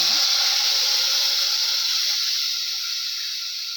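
Ground curry paste with curry leaves hitting a hot pan for thale curry, a loud, steady broadband hiss and sizzle that slowly fades as it settles, with no talking over it.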